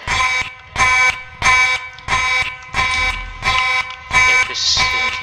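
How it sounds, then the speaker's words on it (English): A 1980s Simplex fire alarm system in a Roblox game sounds loud, repeating electronic horn blasts, about seven evenly spaced pulses with short gaps between them. "So that is Roblox Fire Alarm Inspection number 44 on this 1980's Simplex fire alarm system."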